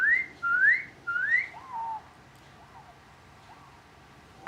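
A person whistles, imitating a parent kiwi calling to a hatching chick: three rising whistled notes, then three softer lower calls, clear and close against a quiet background.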